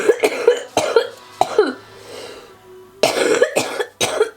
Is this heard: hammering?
no